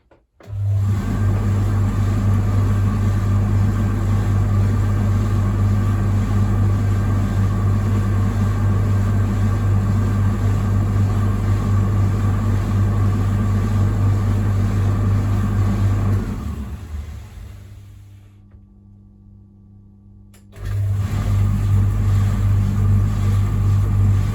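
A Beko tumble dryer runs with a loud, steady motor hum and drum rumble for about sixteen seconds, winds down to near quiet, then starts up again at full strength.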